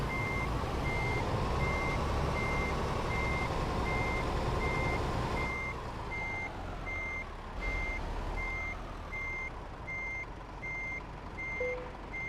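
Reversing alarm of a truck backing a flatbed trailer in Euro Truck Simulator 2, evenly spaced high beeps repeating over a steady engine rumble that drops and rises as the rig creeps backward, no talking.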